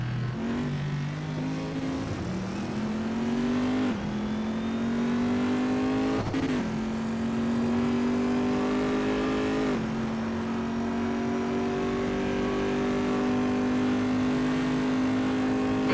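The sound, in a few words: Corvette engine revving on track in a racing video game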